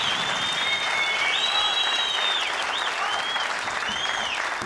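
A packed crowd applauds and cheers steadily at a women's professional squash semifinal in Qatar, the clapping loud and continuous throughout with whistles rising above it.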